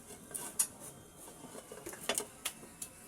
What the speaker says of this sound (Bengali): এবার আমি কিছুক্ষণের জন্য ঢাকনা দিয়ে ঢেকে রাখবো।